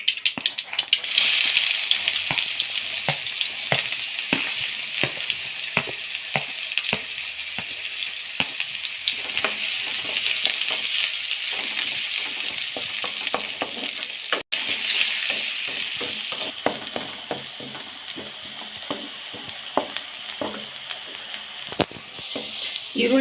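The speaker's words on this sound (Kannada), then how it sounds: "ಇವಾಗ 2 ಫುಲ್ಲು ಬ್ರೌನಿಶ್ ಆಗೋವರೆಗೂ ಚೆನ್ನಾಗಿ ಫ್ರೈ ಮಾಡ್ಕೊಳ್ಳಿ." Two medium onions sizzle loudly in a hot pan while being stirred, with steady frying hiss and repeated scraping strokes of the spoon throughout.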